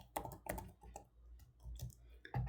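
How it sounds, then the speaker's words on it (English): Keys clatter on a computer keyboard as Java code is typed, a close, irregular run of quick clicks in short bursts with brief pauses. "So let's type the code."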